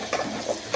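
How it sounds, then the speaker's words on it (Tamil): Onion and garlic sautéing in a pan for chicken gravy, with a soft sizzle and a brief stirring scrape or two over less than a second. "வெங்காயம் பூண்டு போட்டு வதக்கிக்கலாம்."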